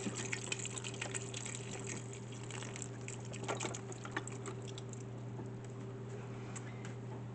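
Leftover turkey broth is poured over beans in an Instant Pot for New Year's Day bean soup. Soft, steady pattering and trickling runs throughout, faint and close, over a low background hum.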